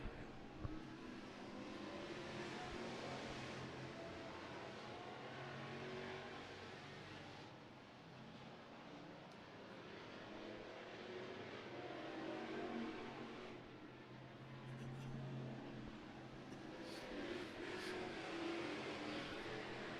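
Street stock cars racing on a track, a steady distant roar of engines with passing surges and revving rising and falling over twenty seconds.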